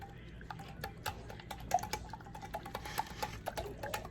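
Instant pudding mix whisked with milk for a lemon poke cake, a faint quick series of light ticking clicks from the whisk against the bowl, no voices.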